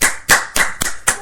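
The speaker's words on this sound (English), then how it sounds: "Everybody give Lizzie a round of applause." Five sharp, separate hand claps ring out at a slow, even pace, loud and close, welcoming a guest on a studio show about Super Bowl 50 picks.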